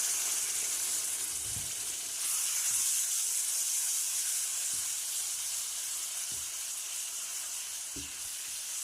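Milk poured slowly into hot, toasted semolina for Turkish milk halva hisses and sizzles in a steady loud wash of steam, with a few soft thumps of stirring underneath.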